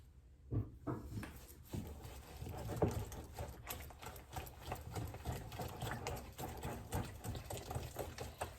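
Butter, sugar, eggs and vanilla extract being whisked together in a Thermomix, a steady mechanical whirring with a soft rhythmic churn running throughout at moderate, close level, no talking.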